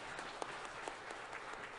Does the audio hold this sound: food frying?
no